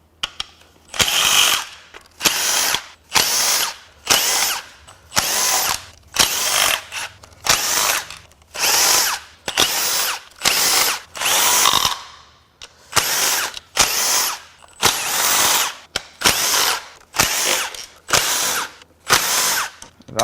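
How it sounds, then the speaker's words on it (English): Tools loosening bolts to remove the valve cover from a damaged Mitsubishi Evolution 4B11T engine, a loud close run of regular ratcheting bursts, each about half a second, repeating steadily with a short pause midway. "The next first thing I'd like to do is peel the valve cover off."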